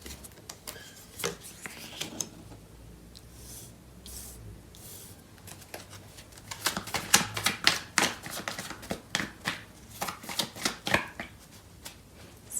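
Tarot cards are shuffled by hand, first in sparse soft riffles, then in a faster burst of crisp, rapid flutters and slaps, close by and with no talk.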